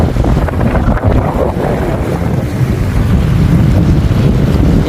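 Strong, steady wind roars and buffets the microphone on a riverbank with choppy water, a loud continuous rumble with no let-up and no talking.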